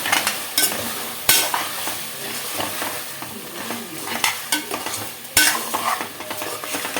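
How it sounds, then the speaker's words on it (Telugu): Goat head curry with spices being stirred in a pan on the heat, a steady scraping stir over a soft sizzle, with a few sharper knocks of the spoon against the pan. "మళ్ళీ కలిపేసేసుకుందాము ఒకసారి."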